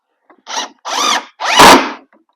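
A power drill drives screws into an MDF interior door in three short bursts, each rising in pitch as the screw goes in and stopping before it is fully tightened; close and loud with no talk.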